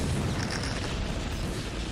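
Protoss gateways blowing up in a StarCraft match while a Goliath and units fight nearby, a dense, rumbling wash of overlapping explosions and bursts, continuous and loud at a moderate distance.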